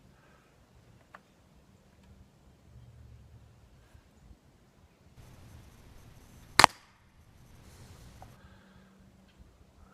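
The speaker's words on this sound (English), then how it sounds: "I'm going to shoot the one on the left with the Crosman 760 Pump Master." A single sharp, loud crack of a Crosman 760 Pump Master air gun firing outdoors, preceded by faint rustling and wind noise, with quiet ambience afterward.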